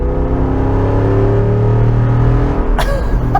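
After a downshift, the Jeep Wrangler Rubicon 392 V8 with active exhaust pulls hard under full throttle, a loud sustained roar rising steadily in pitch before cutting off with a sharp transient near the end.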